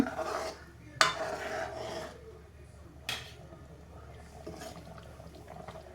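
A spoon stirs beaten egg into a simmering egg gravy in a pot, making soft scraping and clinking strokes with a couple of sharper knocks against the pan over a faint bubbling background.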